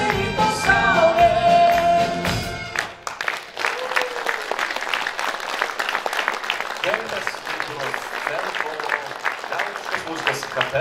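A festival audience applauds a folk music band: the band's music ends, then loud, sustained clapping and ovation fill the rest of the clip.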